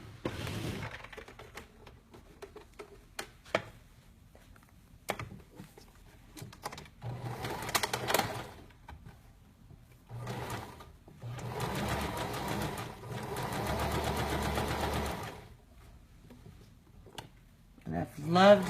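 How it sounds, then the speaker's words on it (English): A sewing machine runs a stay stitch around a garment seam in several bursts of rapid mechanical whirring and ticking, separated by pauses, clicks and handling noises, close by with a voice speaking in between. "now we're going to sew with a stay stitch. You're going to sew all the way around this seam right here."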